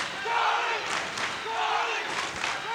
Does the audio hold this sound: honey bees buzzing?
no